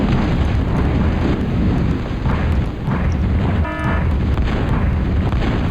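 Torpedoes exploding on an enemy unit in a naval video game, heard as a loud, dense, continuous booming rumble with heavy low-end roar that barely lets up across the stretch.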